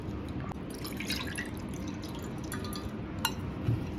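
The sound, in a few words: tamarind being dissolved in water by hand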